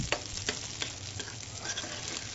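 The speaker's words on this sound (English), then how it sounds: "I'll just go ahead and give these lentils a quick stir here" Lentils in a pan hiss and sizzle softly while a spoon stirs them, with a few light clicks and scrapes against the pan over a faint, steady bubbling.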